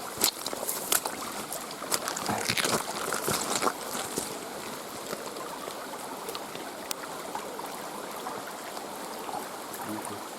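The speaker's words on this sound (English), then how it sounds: "after all the rain we've had, the creek is really going for it now." A creek swollen by heavy rain rushes steadily at a wild campsite, a continuous broadband hiss of flowing water with occasional splashes and gurgles, moderately close.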